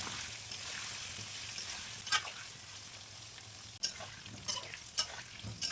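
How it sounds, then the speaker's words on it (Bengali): Washed potato cubes with salt and turmeric fry gently in hot oil in a wok, a soft continuous sizzle with occasional light stirring clicks and scrapes, faint and fairly distant. "আগে থেকে ডুমো ডুমো করে কেটে ধুয়ে রাখা আলুগুলোকে হালকা ভেজে নেব"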